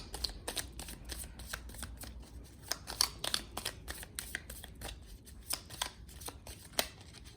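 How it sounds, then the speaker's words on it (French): Angel oracle cards being shuffled by hand, a rapid series of crisp riffling snaps and slaps close to the microphone, irregular in rhythm, with no talking. "Alors on va tirer un dernier message du petit oracle des anges pour les cancers"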